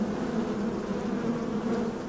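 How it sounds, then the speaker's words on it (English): A dense, continuous buzzing of many Africanized honeybees drones steadily and loudly, close by, without pause. "The bees frequently swarm in search of a new nest."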